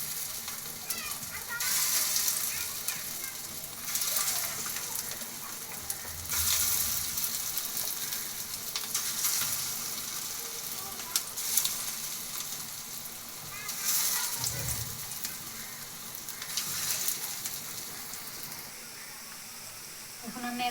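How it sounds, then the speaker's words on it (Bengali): Banana blossom fritters fry one by one in hot oil on a tawa, a steady close sizzle and crackle with bursts of louder spitting as each piece goes in and brief clinks of handling. "তেল গরম হয়েছে। এখন আমি একে একে ভাজার জন্য দিয়ে দেব।"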